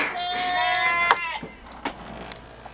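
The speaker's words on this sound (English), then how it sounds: "We just got some more sheep about a month ago." A sheep gives a single wavering bleat up close, followed by a few soft thumps and rustles.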